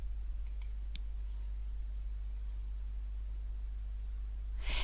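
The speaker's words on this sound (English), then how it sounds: "Now I'll click Next and Yes, and then select the compact installation." A few soft, quick mouse clicks during a software installation on a computer, close but faint over a steady low electrical hum, with nothing else happening.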